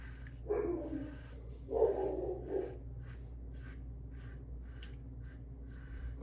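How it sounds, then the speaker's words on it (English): A dog barks a couple of times in the background, two short muffled bursts over a quiet room hum, with no talking. "my dog started going in the background"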